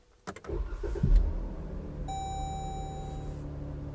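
A Jeep Grand Cherokee 3.6 V6 engine cranks briefly and catches after rocker arm and camshaft replacement, settling into a steady low idle, followed by a sustained electronic chime.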